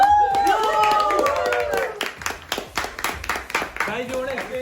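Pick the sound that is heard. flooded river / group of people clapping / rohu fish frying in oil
group of people clapping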